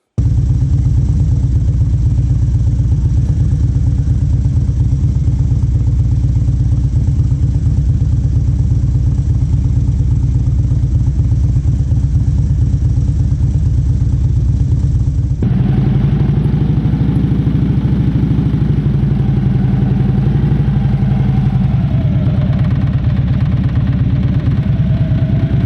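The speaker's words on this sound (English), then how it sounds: "you're going to slowly release the clutch lever till the bike starts to move" A motorcycle engine idles steadily up close, then the note thickens as the clutch is eased into the friction zone and the bike rocks forward, with a continuous low rumble and no talking.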